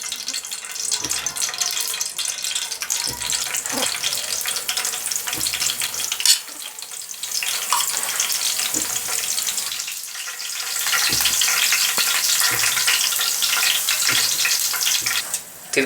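Green garlic sizzles in hot ghee for a moong masoor dal tadka, a continuous close frying hiss with scattered pops and stirring scrapes, swelling louder toward the end, with no talking.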